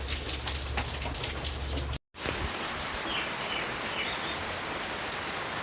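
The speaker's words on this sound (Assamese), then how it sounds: "এয়া দেখিছেনে বৰষুণ দি আছে" Steady rain patters on surfaces outdoors, a dense even hiss with a brief silent gap partway through and faint bird calls over the downpour.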